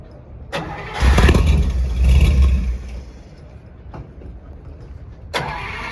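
A car with a fresh 331 Chrysler Hemi cranks and fires up at an outdoor swap meet, the engine catching with a loud burst, then settling into a rumbling idle with brief clicks and knocks near the microphone.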